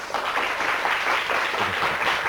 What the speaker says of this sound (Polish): Ogromne brawa, 60 punktów.